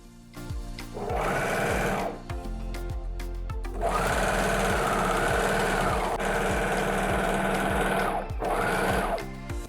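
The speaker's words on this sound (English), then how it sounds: "sew the clear elastic to the upper edge with the overlocker or the zigzag stick" Sewing machine running fast with overlock or zigzag stitching as clear elastic is stretched and sewn to the upper edge of a maxi skirt tier, several close rapid bursts with brief pauses, loud and steady, no voices.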